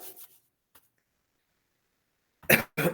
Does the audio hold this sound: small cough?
yes